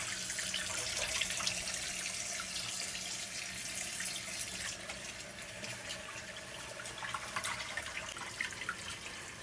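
Steady running water pouring from a tap into a sink while rinsing chitterlings, a continuous splashing hiss with no voices.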